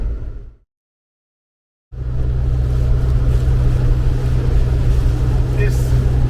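Gusty storm wind pounds a moving car, giving a loud, steady low rumble of wind and road noise that drops out briefly and then returns at full strength.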